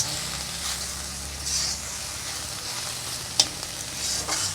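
Susni greens frying with prawns in a pan over a low flame: a steady, soft oil sizzle with a faint hiss, broken by an occasional light scrape or tap of a utensil.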